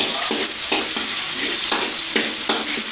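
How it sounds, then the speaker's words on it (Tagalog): Garlic and onion frying in a hot pan, a steady loud sizzle broken by rhythmic stirring scrapes every half second or so, close and continuous with no voices. "Lalagay tayo ng ating bawang. Ating onion."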